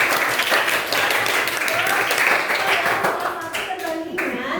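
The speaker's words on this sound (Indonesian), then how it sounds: "Tepuk tangan." An eighth-grade class claps hands together in a classroom, a burst of brisk applause that fades toward the end, with children's voices heard over it.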